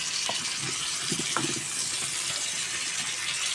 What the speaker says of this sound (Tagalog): Ngayon, lagyan ko siya ng tubig para naman siya kumulo.